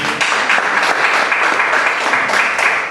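Loud applause from a church congregation during a Spanish-language sermon, a thick, sustained roar of many hands clapping together for about three seconds.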